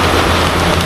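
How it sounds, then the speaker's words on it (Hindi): Heavy rain pours down steadily and loudly, a dense continuous roar of drops hitting surfaces, close and unbroken with no voices over it. "बहुत ज़ोर से बारिश हो रही है"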